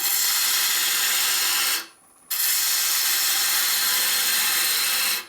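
A wood lathe spins a maple burl bowl as a gouge makes push cuts, a steady loud hissing shear broken by one short pause before the cutting resumes.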